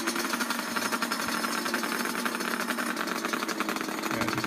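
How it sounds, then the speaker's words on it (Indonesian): A two-stroke motorcycle engine runs steadily close by, a dense buzzing rattle with a fast even pulse throughout, with no voices. "Anda bisa dengarkan suaranya, perbedaan suaranya nanti antara motor 2 tak dan 4 tak."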